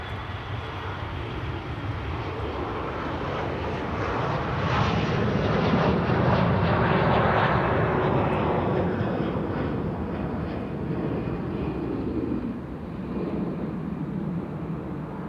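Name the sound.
airliner departing Amsterdam Schiphol Airport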